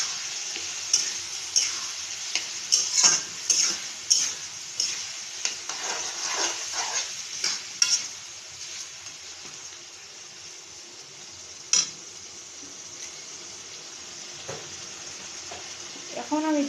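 Spices fry in a pan with a soft continuous sizzle while a utensil stirs them, making a run of irregular scraping taps and clacks that thin out midway, then return sparsely.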